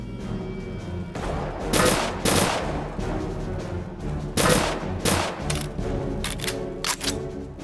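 Short bursts of gunfire in Return to Castle Wolfenstein, several quick volleys separated by pauses over a steady background hum.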